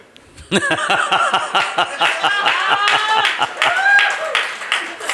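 An audience claps together at a live Hindi kavi sammelan poetry show, a dense, rapid burst of applause that starts abruptly and carries on loud and steady, with scattered chuckles and laughter mixed in.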